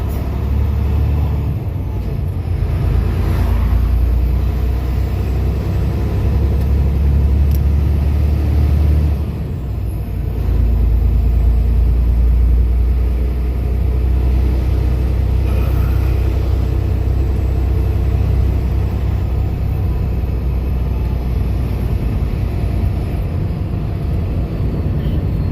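A truck engine rumbles low and heavy as the rig pulls out on a back road, a steady close drone that swells and eases through the pull-away with no talk.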